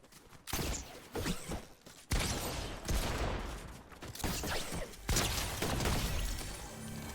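Gunfire in Fortnite Reload, with a sniper rifle (AWP) crack among sharp shots and impacts, several loud bursts over about seven seconds in a busy game mix.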